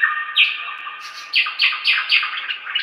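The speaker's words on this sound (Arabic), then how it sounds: "هذا بلبل، بلبل شمال افريقيا" North African bulbul singing nearby: a clear, bright phrase of repeated rhythmic chirps and whistled notes, loud and alone against a quiet background.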